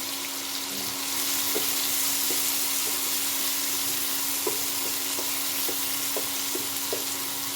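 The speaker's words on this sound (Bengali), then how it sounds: "দুটো বড় বড় মাপের কুচনো পেঁয়াজ দিয়ে দিচ্ছি। পেঁয়াজটা ভালো মতো ভেজে নিতে হবে।" Chopped onions, two large ones, frying in oil in a pan, giving a steady close sizzle with occasional small pops and stirring clicks throughout.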